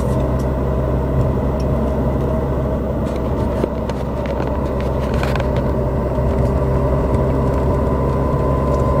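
A Subaru GR WRX STI with a Milltek catback exhaust coasts in fourth and fifth gear, giving a steady, low engine and exhaust drone with road rumble from inside the car.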